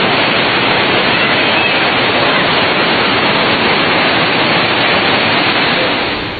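After an ordinary summer downpour in Odesa, rainwater rushes down a street like a river in a loud, steady, close roar of churning water that fades slightly at the end.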